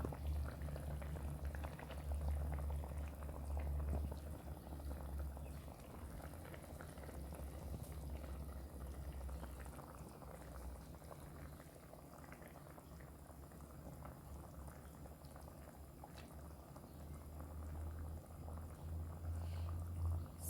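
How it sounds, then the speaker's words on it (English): Salmon fish curry boiling in a pot, a faint continuous bubbling and low rumble with soft pops, steady throughout with no voices. "the curry started to boil now"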